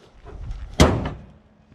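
Heavy steel hood of a 2010 Toyota Corolla slammed shut with a single loud, sharp thud, preceded by faint handling noise and followed by a short fading ring.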